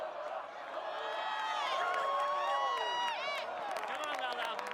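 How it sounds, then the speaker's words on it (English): A live crowd at an American Ninja Warrior Denver qualifying course chants a competitor's name as she climbs the first wall, a loud sustained mass of voices with rising and falling shouts and whoops. "And the crowd chanting her name."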